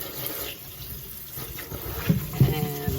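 Tap water runs steadily into a plugged kitchen sink holding freshly rinsed beets, a soft continuous splashing that grows a bit fuller with a few clunks near the end.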